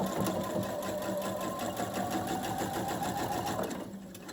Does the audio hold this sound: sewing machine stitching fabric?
yes